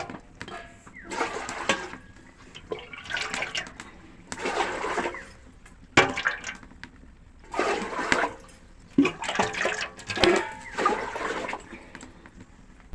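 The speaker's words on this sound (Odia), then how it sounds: "ଇଟିଲି ଛାଞ୍ଚରେ ଦେଇଦେମି ପାଣି।" Water poured from a vessel into an idli steamer mould during home cooking, heard as repeated bursts of splashing and trickling, fairly close, with short pauses between pours.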